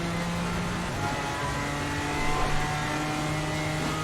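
A Ginetta GT4 race car in Assetto Corsa Competizione accelerates down a straight in the rain at Bathurst, its engine a steady, buzzing drone that shifts pitch as it climbs, loud and continuous without talk.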